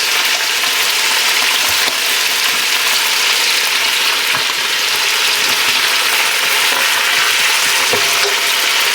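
Sausages frying gently in a pan for an old-fashioned Italian Sunday dinner, a steady broadband sizzle with faint crackles and a few small pops, close and continuous throughout.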